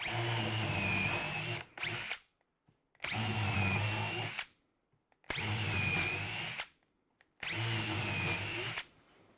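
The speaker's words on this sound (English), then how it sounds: "drill those holes" A power drill drills holes in wood in four long bursts, each a few seconds, separated by short pauses, loud and close with a high whine.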